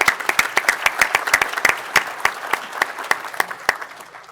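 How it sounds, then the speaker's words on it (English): An audience at a county board of supervisors formal meeting gives a short round of applause, a burst of close, crisp claps that gradually thins and fades. "maybe a round of applause would be appropriate here as well"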